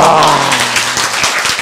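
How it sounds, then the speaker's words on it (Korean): Brief burst of audience applause, dense clapping close and loud in a lecture hall, with a faint lingering tone at the start. "박수!"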